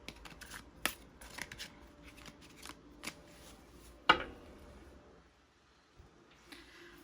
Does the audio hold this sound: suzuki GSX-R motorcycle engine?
no